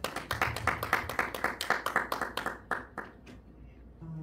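Small lecture audience clapping for a professor after a talk on Christian worldview, about a dozen brisk, close claps in a fairly even rhythm that thin out and fade within a few seconds.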